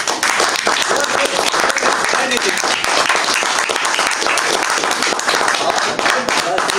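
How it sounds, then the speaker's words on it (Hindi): Loud, dense applause from an audience at a birthday celebration speech, continuous and steady for several seconds, with no pauses. "तो इन सब लेडीज के लिए सब लोग तालियां"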